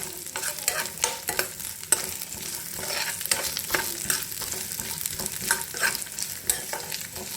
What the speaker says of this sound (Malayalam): ഇതിലേക്ക് തേങ്ങ വഴറ്റുക കേട്ടോ